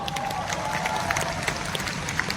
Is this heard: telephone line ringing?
no